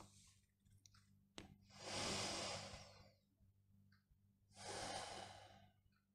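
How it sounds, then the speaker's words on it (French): Two slow, deep breaths taken close to the microphone, each a long airy inhale-exhale swelling and fading, separated by quiet pauses over a low steady hum, during a guided relaxation exercise. "de bien respirer 3 fois en ressentant tout votre corps"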